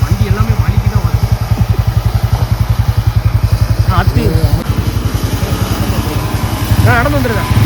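A motorcycle engine chugs steadily and loudly in low gear on a rough, muddy forest road toward a mountain viewpoint, its rhythmic thumping continuous throughout, with people talking over it at times.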